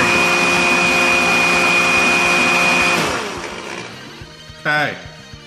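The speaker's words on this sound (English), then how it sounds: "I'm blending it in a blender with ice cream, with Breyers vanilla ice cream." A blender whirs loudly blending sapote, chocolate and Breyers vanilla ice cream, a steady high motor whine that spins down and stops, followed by a short spoken word.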